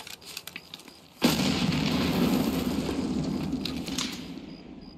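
Grenade blast in the video game Escape from Tarkov: a loud boom erupts after a few faint pops and rumbles on for several seconds, then fades, with no talk over it.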